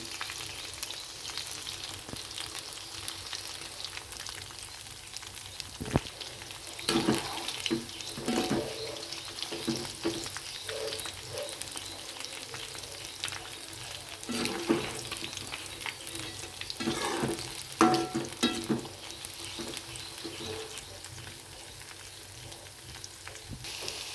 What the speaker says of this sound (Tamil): இதில் இருக்கக்கூடிய எல்லா காலிஃப்ளவரையும் இதே மாதிரி ஃப்ரை பண்ணி நம்ம எடுத்து வச்சுக்கலாம்